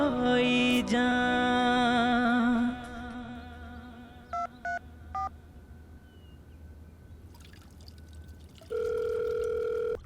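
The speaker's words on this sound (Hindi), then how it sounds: "ये बुढ़ऊ का फोन आ रहा है, क्या करूं?" A telephone gives a steady electronic tone and then a few short beeps. A sustained ringing tone returns near the end, with no talk over it.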